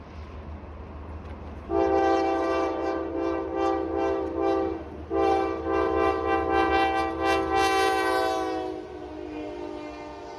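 A loud Norfolk Southern freight train horn blares in two long blasts, the second with a shifting chord, over the low rumble of a passing westbound manifest train.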